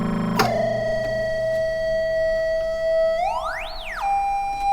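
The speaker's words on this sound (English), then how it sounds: "One that they call the complex oscillator, which basically is the one that just makes the sound" The complex oscillator of a Buchla Easel synthesizer drones on a steady buzzy tone, then sweeps sharply up in pitch and falls back down before holding again.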